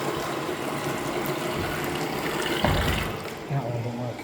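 A leaking household tap waiting to be changed pours out water in a steady, fairly loud rush that runs through the whole moment, with a brief splashy surge near the end.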